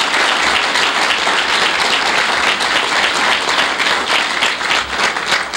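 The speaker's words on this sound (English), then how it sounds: "Please give her a little round of applause." An audience at a tribute gathering gives the speaker's wife a round of applause, dense sustained clapping that stays loud and even throughout with no talk over it.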